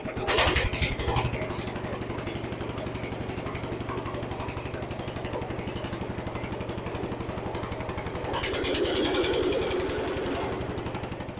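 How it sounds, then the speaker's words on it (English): A Jacobsen Chief 800 garden tractor engine raised from idle with the mower deck engaged runs loud and steady throughout, its rapid chugging pulse swelling briefly louder near the end. "I want to try the mower deck, see what happens here. I'll idle it up in here."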